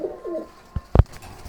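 A pigeon at a breeding farm gives a short low coo near the start, followed by a couple of soft thumps and shuffling in an otherwise quiet space.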